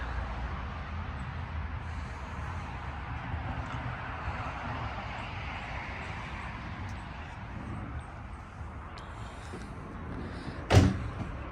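A 2014 Renault Trafic 2 Long 2.0 dCi cargo van door is handled against a steady, noisy background, with one sharp, close latch click or thud near the end.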